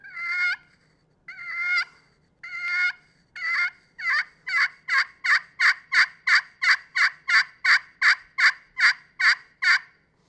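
A turkey friction call worked with a striker gives a series of yelps, starting as a few spaced drawn-out notes, then quickening into a fast, steady run of about a dozen sharp, close, loud yelps, with no talk.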